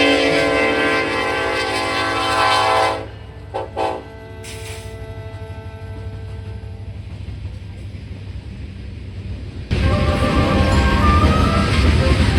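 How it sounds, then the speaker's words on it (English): An eastbound BNSF tanker train on the NS Chicago line, led by a single ACE locomotive, rumbles past with its horn blaring, then a steady roar of rolling cars that swells again near the end. "The next train was an eastbound BNSF tanker train with a solo leading ace and a solo trailing ace on the back end"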